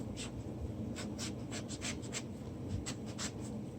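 Knife cutting into the core of a breadfruit, a quick series of short scraping, rasping strokes in an uneven rhythm, close and moderately loud over a steady background hum, with no voices.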